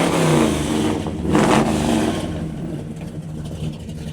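A 1967 Chevy Chevelle V8 revs through a 2.5-inch dual exhaust, giving a deep, throaty rumble that swells to a peak midway, then settles back to a steady burble.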